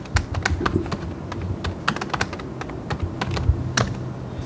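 Rapid keyboard typing with irregular clicks and brief pauses as a search term is entered into a search bar, close and steady with no talking.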